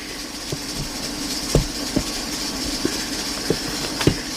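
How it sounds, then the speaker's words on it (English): A small kitchen blender blending beer mustard hums steadily nearby while scattered knocks and rattles break through as its contents churn. "my little blender does what it does."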